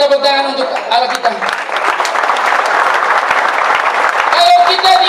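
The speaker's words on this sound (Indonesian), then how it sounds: "Kita tepuk tangan untuk Allah kita." Applause from a congregation at a Christian worship service held inside Abepura Class IIA prison, a dense sustained clatter of clapping that follows a voice and fills the whole stretch, with speech audible at the start and end.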